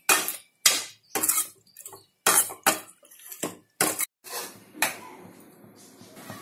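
A spoon stirs onions in a cooking pan for a bottle gourd kootu, giving a run of sharp metallic clanks and scrapes at an uneven rhythm, followed by a low frying hiss.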